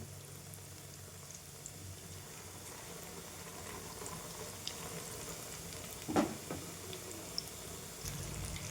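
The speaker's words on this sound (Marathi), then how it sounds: "तेल आपलं छान गरम झालेलं आहे. आता आपल्याला वांगी सोडून घ्यायची आहे." Eggplant fritters (vangi bhaji) frying in hot oil, a steady low bubbling sizzle throughout with a brief louder crackle and splash partway through, close by and without talk.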